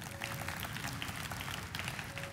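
Church congregation applauding during a sermon, a steady dense wash of clapping from many hands that holds evenly throughout at moderate level.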